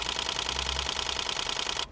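Rapid mechanical clatter of a Nikon D500 DSLR shutter firing in a continuous burst, a steady even rhythm of close, fairly quiet, controlled clicks that runs for nearly two seconds before stopping abruptly.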